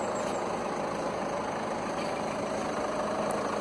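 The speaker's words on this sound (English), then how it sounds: "You can hear the diesel rattling away." The diesel engine of a 2016 Citroen Grand Picasso automatic idles with a steady, continuous rattle and hum, with no voices over it.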